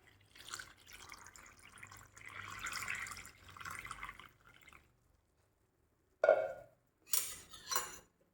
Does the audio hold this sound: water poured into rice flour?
yes